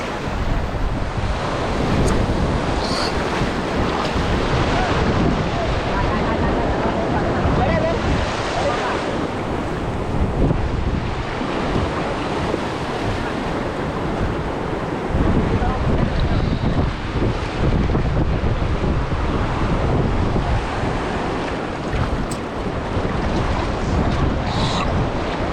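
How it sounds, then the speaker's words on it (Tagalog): Rough ocean waves crash and churn under strong wind buffeting the microphone, a loud continuous roar of surf and gusts lasting throughout, as if heard from a small boat at sea. "Galit ang alon kay Tatay Tatsuki."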